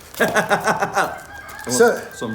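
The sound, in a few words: chickens clucking outside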